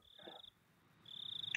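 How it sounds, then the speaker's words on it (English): Cicadas drone faintly in the background of the video game Higurashi When They Cry as a thin, high, steady buzz. The buzz fades briefly, then returns with a rapid pulsing rhythm near the end. "all the cicadas you hear in the background of Higurashi"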